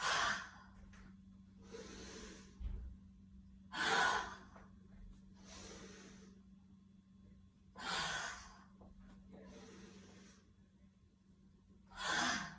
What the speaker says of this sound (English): So as we come up, we're breathing in and out and down.